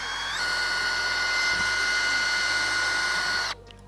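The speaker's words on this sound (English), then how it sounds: "So I take my drill, but I find the best place is the top." A power drill runs continuously, boring a hole into the top of a container for a gasoline fireball black powder charge. The steady, close whine holds for several seconds, then cuts off abruptly.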